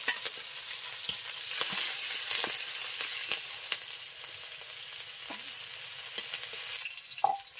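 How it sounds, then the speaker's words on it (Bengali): Onion, garlic and green chili fry in hot oil in a wok, a continuous close sizzle with occasional scraping stirs and sharp pops, with no talking. "পেঁয়াজ রসুনটা ভাজা হয়ে গেছে"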